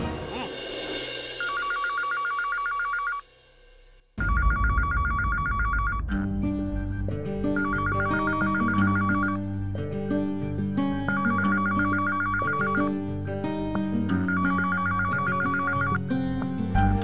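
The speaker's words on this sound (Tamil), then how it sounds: "போன் அடிச்சிட்டு இருக்க, எடுக்காம இருக்கீங்க?" An electronic telephone bell rings in repeated bursts in a domestic drama scene. The first ring sounds alone, then a brief gap follows, and the loud rings continue over music with a low backing.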